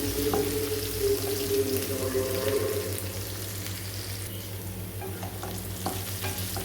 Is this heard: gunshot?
no